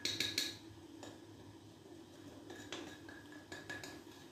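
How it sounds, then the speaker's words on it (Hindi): A spoon wrapped in cloth stirs tea in a hot clay matka pot, giving a few quick clinks and scrapes at the start, then softer scraping knocks scattered through the stir. "तो आपने एक चम्मच के ऊपर कपड़ा चढ़ा लेना है और इसे अभी 2 सेकेंड तक हिला लेंगे।"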